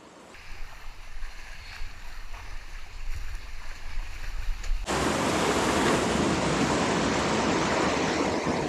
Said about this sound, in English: Paddle hard, just straight down, paddle fast as you can, go straight.